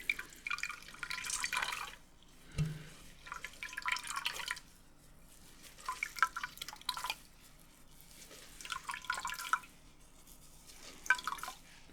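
Cold water drips and trickles from a soaked cloth being squeezed in quiet, close bursts, several short splashy runs separated by pauses, with one low thud.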